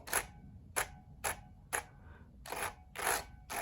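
Halo True mechanical keyboard switches being pressed one by one, each sharp plastic click followed by a faint metallic spring ping, seven isolated strokes in an irregular rhythm, close and quiet.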